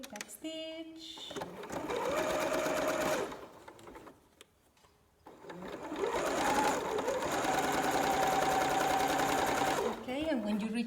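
A sewing machine back stitches a T-shirt strap for a bralette in fast, steady mechanical bursts, briefly pausing in the middle before running on. Talk is heard over it.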